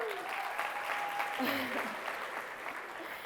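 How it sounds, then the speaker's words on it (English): A school Black History assembly audience claps steadily for the full stretch, a dense wash of applause filling the room with no pauses. "y'all clap it up one time for Nyla."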